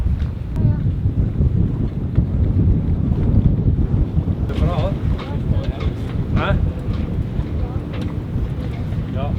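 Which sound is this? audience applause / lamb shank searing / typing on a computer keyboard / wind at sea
wind at sea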